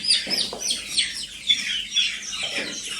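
Organic feather-footed chickens clucking and chirping in short bursts, several birds close by against a light background hum.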